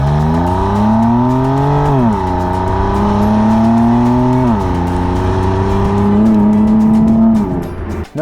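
A BMW M2 Competition engine revving loud and close, climbing through repeated rising pulls broken by brief dips at gear changes, with a raspy, buzzing tone throughout.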